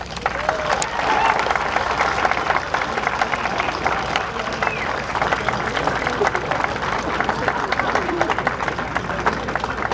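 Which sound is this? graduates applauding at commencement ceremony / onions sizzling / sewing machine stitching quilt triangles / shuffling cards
graduates applauding at commencement ceremony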